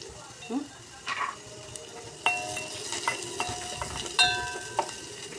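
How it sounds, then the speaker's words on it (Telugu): Green chillies tossed into frying chicken 65, with a soft sizzle and spatula scraping and clinking against the pan in irregular bursts, close and moderately loud, and a voice talking over it. "ఇప్పుడు దీంట్లో పచ్చిమిరపకాయలు వేసుకుంటాం కొంచెం"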